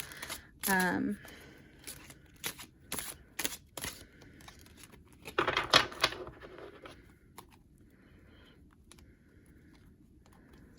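Close, quick papery flicks and a brief riffling burst as a deck of tarot cards is shuffled, with a short vocal sound near the start.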